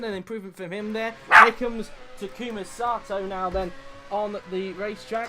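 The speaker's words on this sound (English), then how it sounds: "Sorry if you heard my dog in the background." A dog barks in the background of an IndyCar race commentary, several short barks and yips mixed among steady talk from a commentator.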